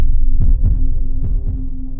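A deep heartbeat sound effect in a tabletop roleplay session thumps in two double beats over a steady low hum, loud and close, with no voices.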